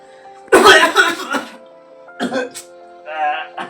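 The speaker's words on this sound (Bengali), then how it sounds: "একটু কাশি হয়েছে আমার" A burst of loud, rough coughing up close from a person with a cough, followed by a couple of shorter coughs and throat sounds over a faint steady hum.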